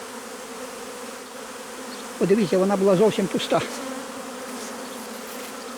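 A steady low insect buzz of honeybees at a hive hums throughout, with a person speaking briefly over it in the middle.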